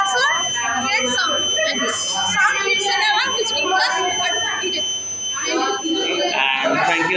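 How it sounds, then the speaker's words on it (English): A buzzer alarm from a student's flood detector science project at a school science fair sounds continuously with steady tones, heard amid a noisy crowd and nearby talking. "when the buzzer creates sound, and this sound creates an alarm"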